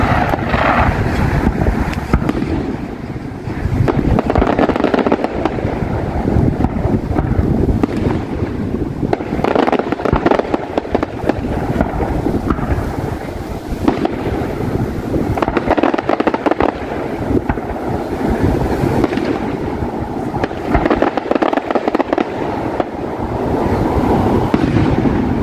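Canada Day fireworks burst at a distance in repeated rumbling booms and crackles, heard outdoors under constant wind buffeting on the microphone.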